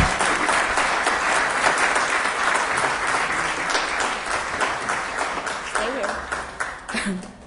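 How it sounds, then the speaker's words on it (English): Audience at a council meeting applauding the parks and recreation director, sustained loud clapping from a full room with voices mixed in, tapering off toward the end. "He deserves a great round of applause."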